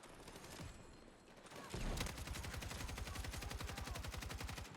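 M250 machine gun in a video game firing sustained rapid automatic bursts, loud and close, with a rhythmic stutter of shots continuing steadily after a brief lead-in of lighter fire.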